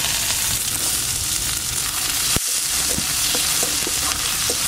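Whole garam masala, coriander seeds, cumin and chopped onion frying in a little oil in a kadai for mutton curry, a loud, dense, continuous crackling sizzle with occasional sharp pops and stirring clicks.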